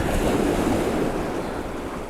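Waves breaking at Eastney Beach at low tide under a strong onshore wind, a loud continuous roar of surf mixed with wind buffeting the microphone, no talking.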